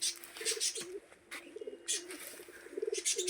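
Pure-bloodline Sajahapuri pigeons coo in repeated soft, throaty bursts, close by, with brief pauses and a faint flutter of wings between phrases.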